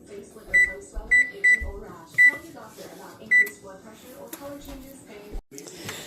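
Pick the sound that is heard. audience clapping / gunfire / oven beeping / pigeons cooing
oven beeping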